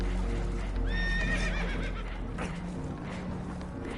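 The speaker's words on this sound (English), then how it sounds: "Horses are spooked, and we're taking on water." Spooked horses in Red Dead Redemption 2 give a loud, close whinny that rises and wavers, followed by softer snorts and hoof clatter amid rushing water noise aboard a damaged boat.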